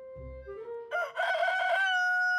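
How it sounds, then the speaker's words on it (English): A cartoon rooster crows once, a long rising and falling cock-a-doodle-doo, clear and fairly close, with no talking. "Since when does Big Apple City have a rooster?"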